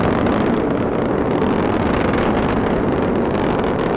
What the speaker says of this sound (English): 9 engines performing very well.